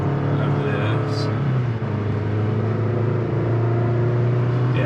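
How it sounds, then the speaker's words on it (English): Engine of a 2023 Chevy Colorado Trail Boss revving high, a loud steady drone heard from inside the cab throughout, with a voice talking over it. "You can hear it revving up pretty high."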